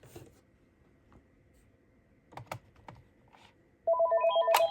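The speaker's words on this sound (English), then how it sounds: "you'll see that the line is ringing, just this phone isn't ringing" An AT&T 213 Trimline telephone's electronic ring begins near the end, a loud warbling tone repeating in quick pulses after a few soft clicks and taps.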